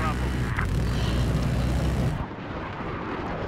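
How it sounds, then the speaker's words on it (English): An attack jet in Battlefield 4 roars past as a loud, broad engine rumble with a brief rising whine, then the roar cuts back abruptly to a lower, steadier drone. "Attack jet, going after him."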